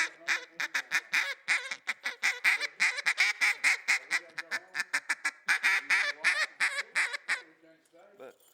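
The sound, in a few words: double reed duck call blown to imitate duck sounds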